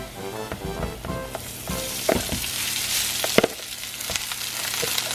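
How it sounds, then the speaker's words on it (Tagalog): Garlic and rice sautéing in a pan for longganisa fried rice, a steady close sizzle with scraping stir strokes and a few sharper clinks of the spatula. "the rest I'm gonna saute together with my rice"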